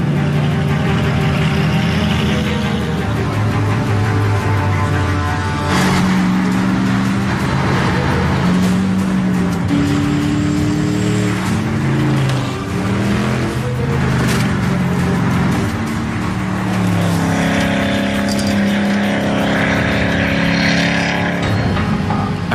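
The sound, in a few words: Gumpert Apollo Enraged sports car driven on a test drive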